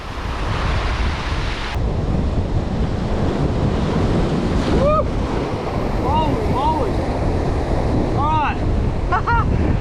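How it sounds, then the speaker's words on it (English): Strong gusting wind roars across a rocky shoreline where heavy surf crashes, a loud continuous rush of wind and breaking waves with buffeting on the microphone, and a few brief high squeaky calls cut through the roar. "that wind has just fully turned"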